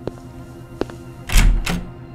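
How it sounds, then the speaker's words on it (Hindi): A few soft knocks, then two louder broadband bursts of creaking and thudding, like a door being pulled open nearby. "अतुल ने तुरंत दरवाजा खोला"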